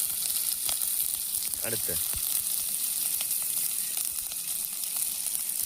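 Onion and green chillies fry in hot oil with a steady, close sizzle and crackle throughout, while a voice speaks briefly over it.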